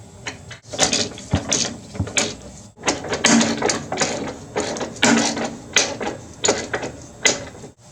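Mechanical clicking and ratcheting while a nut and bolt are tightened on a riding mower frame to brace a custom truck-style shifter, in close, loud repeated bursts with short pauses and no talk.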